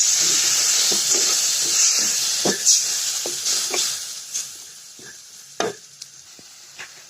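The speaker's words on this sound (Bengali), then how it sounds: "আমাদের মশলাটা সুন্দর মতো কষানো চলছে, দেখতে পাচ্ছেন।" Spice masala for a chicken curry with new potatoes sautés in a pan with a splash of water, a strong close sizzle that gradually fades, broken by intermittent stirring scrapes and taps.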